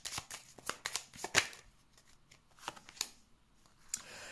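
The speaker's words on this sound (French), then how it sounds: "Je vais mettre d'autres cartes." Tarot cards being shuffled and laid out during a summer horoscope reading: a run of quiet, close papery riffles and slaps in irregular bursts, with soft pauses between handfuls and no talking.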